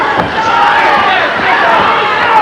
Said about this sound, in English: the crowd appreciates some defensive work by Louie Lomeli